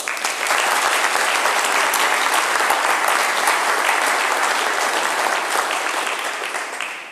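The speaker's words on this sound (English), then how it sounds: "Please join me in a round of applause." An audience at a convocation ceremony applauds a string trio of viola, violin and cello, steady dense clapping from a large crowd that holds for several seconds before slowly tapering off.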